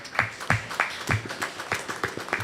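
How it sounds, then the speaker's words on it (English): Audience clapping at a Saptaha Bhagwat Yagna religious gathering: a steady run of separate, fairly even claps, moderately close and without speech. "Let's give Auntie Angela a little clap."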